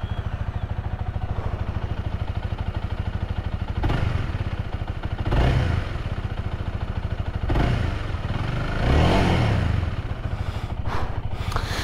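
Honda Rebel 250 cruiser motorcycle engine idling steadily up close, with a few short throttle blips that swell the low rumble and then settle back to idle.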